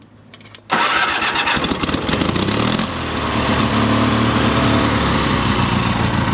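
A Bolens lawn tractor with a twin-cylinder engine cranks briefly, then catches and roars into a loud, steady run that settles into an even, rumbling idle close by.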